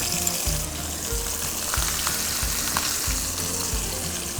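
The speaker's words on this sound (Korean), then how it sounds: "한쪽으로 밀어놓고 다음엔 당근을 볶을게요." Carrots stir-fried in a pan for bean sprout japchae, a close, steady sizzle broken by repeated rhythmic scraping strokes as the vegetables are pushed and tossed, with no talking.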